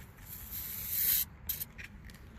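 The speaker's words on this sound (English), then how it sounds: "Spray the compressor, and we're looking for bubbles." Soapy water sprayed from a trigger bottle onto a car's AC compressor in the engine compartment, checking for a refrigerant leak: a close, steady hissing burst of spray that cuts off, then a few shorter faint spritzes and a sharp click.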